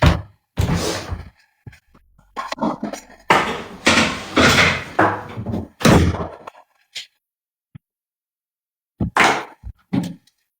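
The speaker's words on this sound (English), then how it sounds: "Let me close that door" A door is shut indoors amid a burst of loud knocks, thuds and bangs spread unevenly over several seconds, with quiet gaps between the hits and no talk.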